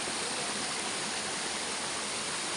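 Waterfall rushing in a steady, even wash of white noise, moderately distant and with no break for the whole stretch.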